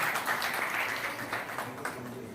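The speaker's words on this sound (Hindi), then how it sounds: "जोरदार तालियां" An audience at a social service organization's ceremony honouring women claps in a continuous, fairly soft wash of applause that sounds somewhat distant, with a few sharper claps standing out.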